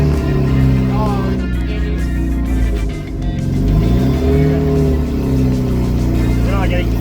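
A 1989 Jeep Wrangler engine revs loudly and steadily while running lean, the pitch rising and falling through several surges up close, with people talking over it.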